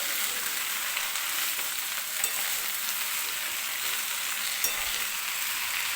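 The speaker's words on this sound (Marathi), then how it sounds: "आणि आता चमच्याने व्यवस्थित हलवून घेते, म्हणजे खालून करपणार नाही." Green amaranth leaves (tandalichi bhaji) stirred with a spoon in a hot pan, giving a continuous close bright sizzle with small scraping clicks from the spoon. No voices are heard.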